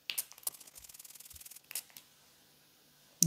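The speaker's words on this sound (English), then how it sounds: "And spray it out." Several short hissing bursts from a perfume atomiser sprayed with water after shaking, a rapid string of pump strokes followed by a couple of isolated puffs, close and fairly quiet, then silence.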